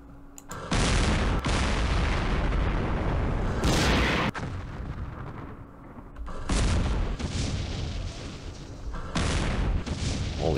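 Artillery fire aimed at tanks in the Campaign Series Middle East wargame: several loud, long booming blasts separated by short quieter gaps, with no talk.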